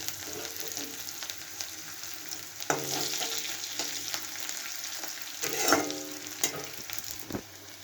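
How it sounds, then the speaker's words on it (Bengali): Green chillies and chopped garlic fry in a pan, a steady close sizzle with stirring scrapes and occasional sharper clinks of a spoon against the pan throughout. "কাঁচা লঙ্কাটা একটু ভাজা হয়ে আসতে দিয়ে দিচ্ছি একটু করে রসুন কুচি"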